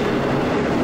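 A CSX intermodal freight train loaded with containers rolls past close by in a loud, continuous rumble with steady wheel and car noise and no voices.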